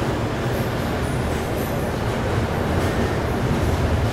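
Visakha Express pulling out of Vizianagaram Junction after a five-minute halt, a steady loud rumble of rolling train noise that holds evenly throughout with no voices.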